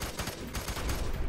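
Gunfire in the shooter game F.E.A.R. 3, a rapid run of shots in bursts, loud and close, filling the moment with no talk over it.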